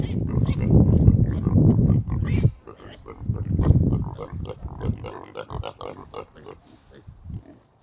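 A loose baby pig grunts and oinks in loud, bursty runs near a garden fence, the squeals rising and falling with short pauses, while people talk nearby.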